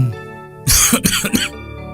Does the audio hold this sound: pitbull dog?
no